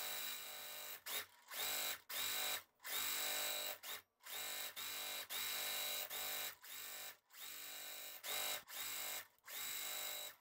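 A sewing machine stitches quilt pieces together for a nine-patch block, running in loud, steady motor bursts separated by short pauses, with no talking.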